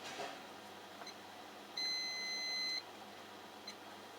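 A single steady electronic beep lasting about a second from a Siemens IQ700 heat pump condenser dryer, sounding alone and fairly faint over a quiet room hum.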